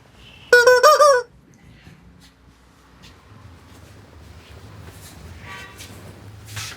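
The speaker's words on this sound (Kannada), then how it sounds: "Chicken toys. ಹಾಂ, ಚಿಕನ್ ಟಾಯ್ಸ್." A squeaky rubber chicken pet toy, sold at a pet food and accessories market in Bangalore, lets out one loud, strained honking squawk lasting under a second, followed by quiet market background noise.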